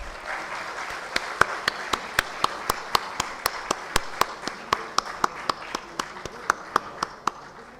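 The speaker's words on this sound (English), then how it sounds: "May we please have a big round of applause" A hall audience gives a big round of applause at an annual day event as guests arrive on the dais, heard as a steady run of sharp individual claps over a continuous crowd wash, with a distant voice faint beneath.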